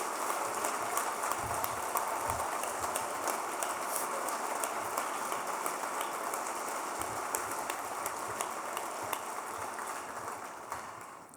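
A gala audience applauds, a dense, even wash of many hands clapping that holds steady and tapers off at the end, with scattered sharper claps standing out.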